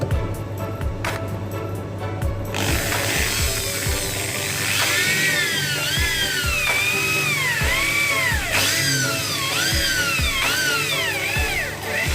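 A power drill whirs and revs repeatedly as it drives screws into a three-door display fridge door edge at the hinge, its pitch rising and dipping in bursts with clicks and clatter, loud and close.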